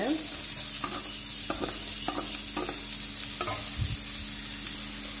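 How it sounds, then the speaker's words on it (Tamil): Small chopped onions sizzle in hot oil with cumin seeds in a pan for a drumstick leaf soup, a steady frying hiss broken by several close scraping stirs, with no talk. "நான் வந்து சின்ன வெங்காயம் இந்த மாதிரி பீஸஸாக கட் பண்ணி வச்சுருக்கேன், ஆட் பண்ணிக்கிறேன்."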